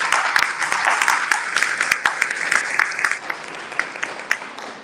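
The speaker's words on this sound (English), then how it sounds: "So give yourself a round of applause." A summit audience applauds, dense clapping that fades into scattered, sharper individual claps toward the end.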